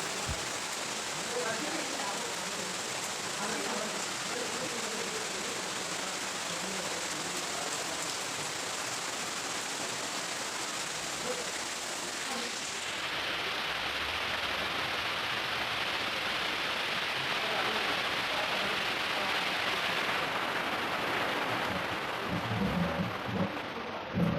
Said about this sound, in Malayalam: വൈകുന്നേരം വീണ്ടും ഒരു നല്ലൊരു അടിപൊളി മഴ പെയ്തിന് കേട്ടോ